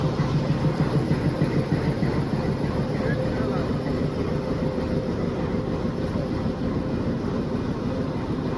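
The Ooty toy train stands at Udhagamandalam station before departure, filling the air with a loud, steady, unbroken mechanical rumble and hiss that holds constant throughout.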